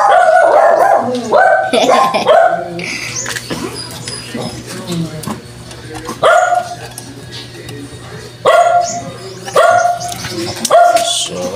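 A dog barks loudly and close by in repeated bursts, several sharp barks spaced through the stretch, with some talking and background noise in between.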